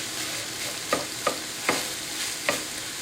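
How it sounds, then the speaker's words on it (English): Onions, garlic and chili powder fry in a pan under a steady sizzle, with five sharp spoon taps and scrapes spaced regularly against the pan as the mix is stirred. "moving all the way around with the onions and garlic after it's been translucent"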